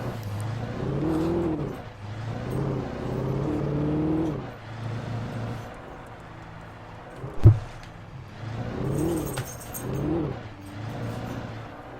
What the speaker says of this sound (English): That's some great drifting there.